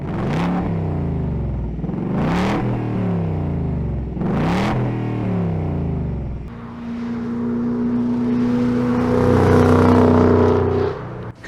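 A Ford Mustang California Special (2022) with a 5.0-liter V8 rated at 450 horsepower revs loudly three times in rising and falling blips, then settles into a sustained, throaty idle rumble, recorded up close with no talking.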